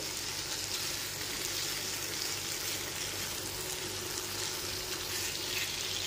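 Potatoes and pointed gourd are stir-fried with spices in a pan over medium heat, giving a steady, even hiss of frying that runs unbroken throughout, with no one speaking.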